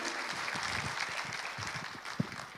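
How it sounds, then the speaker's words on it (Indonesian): Audience applause at the launch of Indonesia's crude palm oil (CPO) exchange, a dense steady wash of many hands clapping in a hall, moderately loud and continuous, with one sharper clap standing out near the end. "Berikan dulu tepuk tangan supaya ramai acara pada pagi hari ini."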